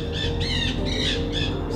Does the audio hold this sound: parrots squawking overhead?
yes